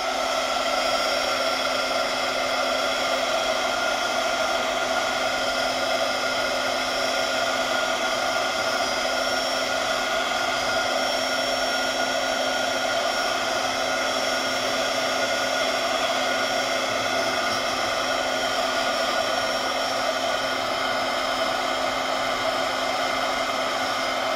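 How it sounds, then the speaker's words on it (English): Heat gun blowing steadily to dry paint on a junk journal cover, a loud continuous whirring hiss with a high whine, unbroken and alone for the whole stretch. "I'm going to use my heat gun just to dry this real quick"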